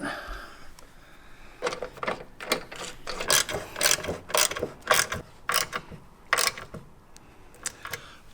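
A ratchet tightens bolts while EVO Bomber rock sliders are installed on a Jeep JL Wrangler. Short bursts of clicking repeat again and again, close by and fairly loud against a quiet background, with no speech.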